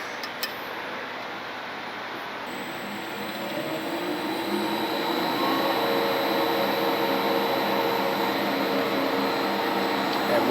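A wheel balancer machine spins a wheel up toward 4,000 RPM. Its whirring hum climbs and grows steadily louder, with a thin high whine on top, and holds there continuously.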